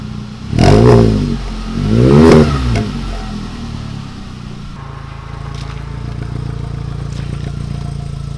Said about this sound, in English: Give it a couple of revs.